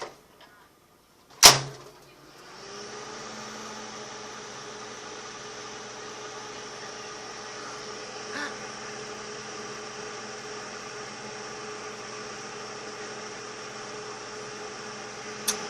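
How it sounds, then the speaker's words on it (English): A microwave oven runs with soap inside, a door clunk and beep followed by a steady, even electrical hum and fan whir that continues alone. "We're gonna microwave soap, guys."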